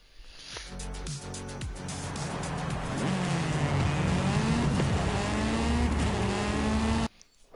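A Lamborghini Storado engine in Forza Horizon 5, with a loud revving, accelerating roar that climbs through gear shifts and some tire noise, alone, before cutting out near the end.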